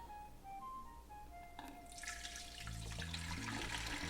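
Ginger ale pours into a pitcher of sangria, a fizzy splashing stream that starts partway through and runs steadily to the end, fairly close and alone, over faint background music.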